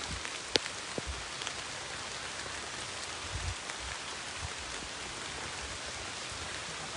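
Steady rain pours down at a lakeside resort in Mabitac, Laguna, a soft, even hiss of drops spattering surfaces throughout, with an occasional sharper drip standing out.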